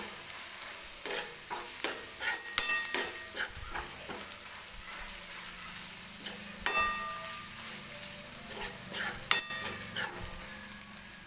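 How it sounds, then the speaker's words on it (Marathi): Ground masala paste for an egg curry fries in hot oil, sizzling steadily while a spoon scrapes and stirs the pan in repeated close strokes, with no voices. "हे वाटण टाकल्यावर सुद्धा मी छान असा हा मसाला भाजून घेते तेलामध्ये"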